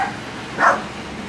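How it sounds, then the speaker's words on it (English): Neighbouring dogs let out a single short bark a short way off, rising briefly over a quiet outdoor background. "Shout out to the neighbor dogs."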